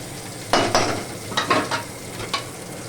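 Prawns fry in oil in a pan, a steady sizzle with a few louder scraping stirs of a spatula, close and with no talking.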